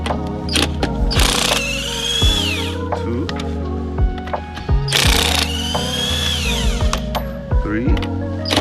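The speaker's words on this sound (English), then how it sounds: "Now we're gonna take these lug nuts off" Jeep Commander wheel having its 19 mm lug nuts taken off with a power impact tool: several sharp, loud whirring bursts in quick succession, close by, with someone talking between them.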